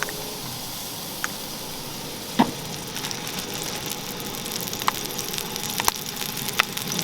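Oil heating in a pan gives off a steady, soft sizzle with scattered sharp pops and crackles, close by and moderately quiet, with no one speaking.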